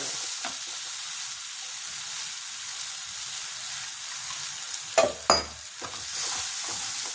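A besan and pea mixture is stirred in a pan, a soft continuous sizzle with a few louder scraping stirs near the middle, close and without talk.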